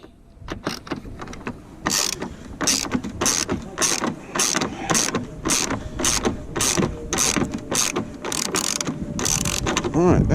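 A ratchet wrench with a 10mm socket works a bolt loose on a Yamaha YZF-R 125 during a fuel tank shell swap, with repeated close bursts of quick ratcheting clicks coming in a steady, regular rhythm.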